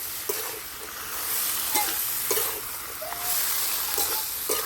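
Prawn heads coated in salt, turmeric and oil are stirred and fried in a kadai, giving a steady close sizzle broken by scraping stirs of the spatula.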